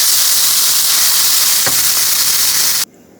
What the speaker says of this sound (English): Put your chopped onions in olive oil and brown them up.